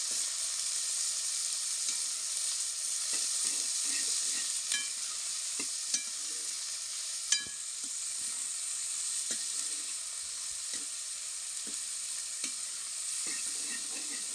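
Chopped onions frying in a pan for a homemade milk curry gravy: a steady, bright sizzle runs throughout, broken by scattered clicks and scrapes from stirring, with no talk.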